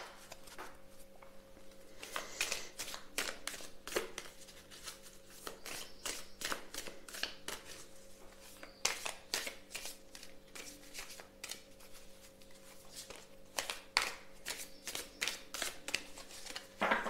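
A mirror oracle card deck being shuffled and cut, a quick run of crisp riffling card flicks repeating in close bursts over a quiet room.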